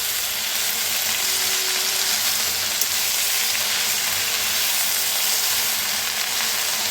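Fenugreek leaves fry in a pan with an even, loud, continuous hissing sizzle close up, with faint stirring underneath and no voices.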